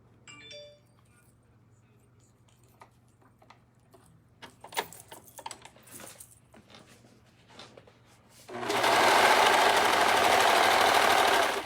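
Serger overlock sewing machine stitching a skirt seam, running as a loud steady whir in one burst near the end after scattered handling clicks and rustles.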